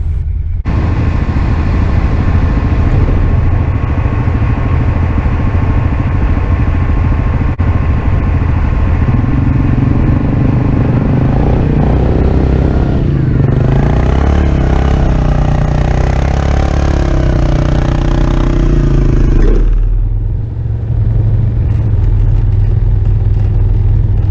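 Side-by-side off-road vehicles, a Polaris RZR and a Polaris Ace, rev and strain while digging through soft sand dunes, their engines droning loud and close in a continuous roar that shifts pitch as they push.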